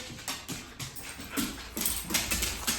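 Dogs in a filthy room of a 1944 house whimper softly in short, repeated whines, faint and close, over a steady noisy background.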